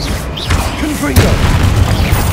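A Confringo fire-spell blast in the game Hogwarts Legacy gives a loud, heavy boom with a sharp burst near the middle, over constant low rumble, and a voice is heard along with it.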